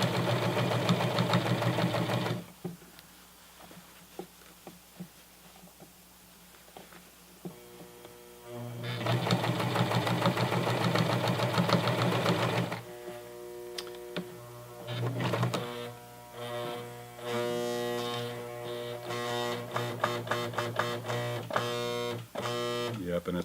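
Sewing machine fitted with a denim needle hemming the leg of Levi's 550 jeans, running in loud rapid bursts of stitching separated by short pauses, the motor whirring steadily with a dense mechanical rattle.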